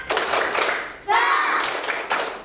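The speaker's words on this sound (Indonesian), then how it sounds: "Tepuk semangat." Classroom children doing a rhythmic spirit clap, several bursts of group clapping near and loud with children chanting along between them.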